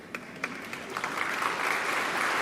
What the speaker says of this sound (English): we applaud both masters